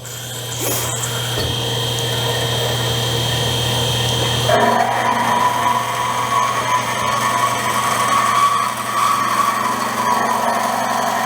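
RMT S-FAB PDM 10-14 semi-automatic double miter bandsaw starting up to cut metal tube, a steady motor hum that shifts into a louder, brighter whine of the blade running continuously.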